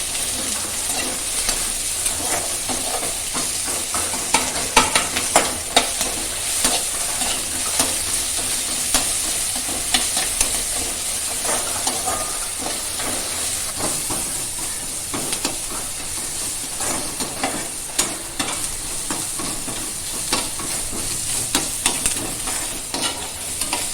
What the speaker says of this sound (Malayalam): എന്നിട്ട് അത് നല്ലതുപോലെ ഇളക്കി ബ്രൗൺ ആകുമ്പോഴേക്ക്